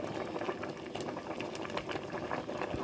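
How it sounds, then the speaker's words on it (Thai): Bamboo shoot curry boils in a pot, a steady close bubbling and gurgling that stays constant throughout with no voices. "ต้มให้มันเดือดนะคะ เดือดฟุดๆแล้วนะฮะ"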